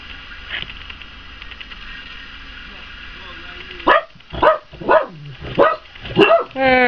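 Several dogs bark in a run of loud, close barks and yips indoors, following a stretch of quieter room sound.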